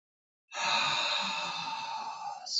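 A long, forceful exhale pushed out steadily during a kung fu fitness breathing exercise, starting abruptly after a short silence and holding strong for about two seconds before tapering off.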